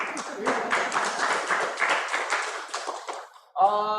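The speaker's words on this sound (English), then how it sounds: "You can clap, it's okay." Attendees at a Keller Williams Larchmont real estate team meeting clap together in a dense, steady burst of applause lasting several seconds before a voice cuts in at the end.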